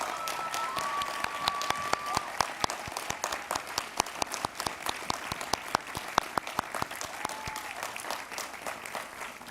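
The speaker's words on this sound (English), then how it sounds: "if we could give them all a round of applause," A crowd at a university commencement ceremony claps steadily for several seconds, individual sharp claps standing out over a continuous wash of applause, with a faint tone briefly audible beneath.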